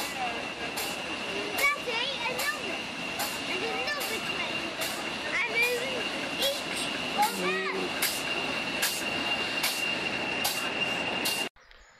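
A train passes through Warrington Bank Quay station, rumbling steadily, with repeated sharp clicks of wheels over rail joints and a squealing tone, ending abruptly.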